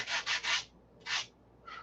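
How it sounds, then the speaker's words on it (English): Quiet, dry rasping strokes of a sanding block on a wooden P-47 wing shear web, three quick passes, a pause, then two more, close by with no talking. "block sanding it,"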